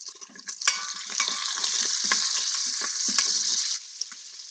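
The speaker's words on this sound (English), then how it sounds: "we're cooking literally right in the Instapot" Red rice sizzles and crackles steadily in an Instant Pot, a dense close frying hiss with occasional stirring scrapes and clicks, cutting off abruptly near the end.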